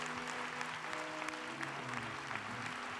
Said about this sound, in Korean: 다시 한번 살아계신 하나님께 영광과 박수 올리겠습니다.